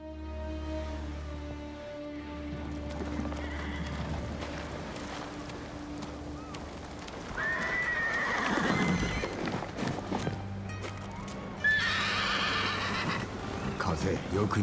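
In Ghost of Tsushima, a war horse wearing Sakai horse armor whinnies twice, loud and close, amid clip-clopping hooves and steady ambient hum, with people speaking over it.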